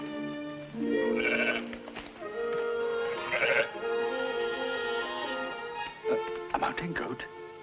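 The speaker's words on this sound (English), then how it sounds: "A mountain goat? Follow it!" A mountain goat bleats several times in wavering, tonal calls spread across the clip, fairly close and clear with quiet gaps between cries.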